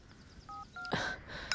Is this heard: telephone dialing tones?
yes